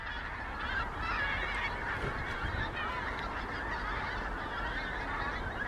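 Geese honking steadily while migrating overhead in Scotland in spring, a dense, continuous chorus of many calls at moderate distance with no talk.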